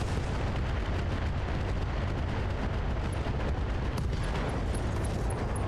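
An ammo detonation explosion in the mech strategy game Battletech Roguetech comes as a dense, continuous roar of blasts and crackling debris, loud and unbroken from start to finish, with no voices over it.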